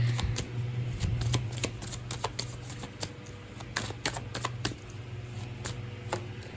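Tarot cards are shuffled by hand close up, a rapid run of crisp riffling flicks and slaps continuing throughout, with a low hum beneath.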